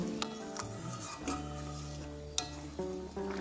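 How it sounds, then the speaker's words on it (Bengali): Paneer cubes being stirred into a simmering tomato curry gravy in a pan, with soft scraping and occasional clinks of a spoon against metal over a low steady bubbling, close and fairly quiet. "এখন আমি এর মধ্যে দিয়ে দেবো কেটে রাখা পনিরগুলো। আস্তে আস্তে এটা মিশিয়ে নেব"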